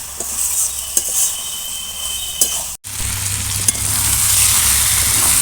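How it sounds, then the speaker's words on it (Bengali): Spices with chili powder frying in fish oil make a steady sizzle with light stirring clinks. After a brief gap it returns as a louder, hissier fry close by. "এবার সমস্ত মশলা একটু ভালো করে কষিয়ে নেব"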